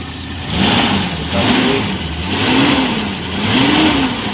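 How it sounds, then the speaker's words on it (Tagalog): A Toyota Town Ace's 5K engine runs up close, settling to a smooth, quiet idle between four rhythmic revs that rise and fall about once a second. "5K pala to guys na engine sa Toyota Town Ace. 5K engine, sobrang tahimik guys."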